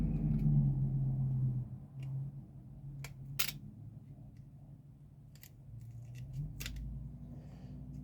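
Metal being cut and folded for a Datsun 280ZX intercooler brace and breather bracket, heard as sharp, isolated snips and clicks scattered over a low background hum, close and fairly quiet; no talking.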